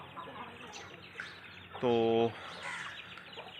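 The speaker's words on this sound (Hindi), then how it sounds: "अंदर जो मुर्गे बंद होते हैं उनकी आपस में होगी ये लड़ाई।" Roosters shut inside a farm shed fight among themselves, letting out one loud harmonic squawk of about half a second amid low background noise and brief speech.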